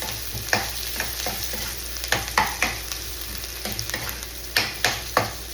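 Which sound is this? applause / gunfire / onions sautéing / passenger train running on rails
onions sautéing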